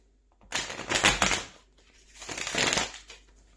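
A deck of tarot cards is shuffled by hand at close range in two bursts of rapid riffling and rustling, with a brief pause between them.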